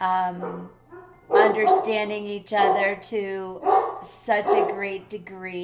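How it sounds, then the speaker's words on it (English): Several household dogs bark and whimper in the background beneath a woman's continuous close speech, the yips rising in short bursts between her phrases. "Sorry about my dogs"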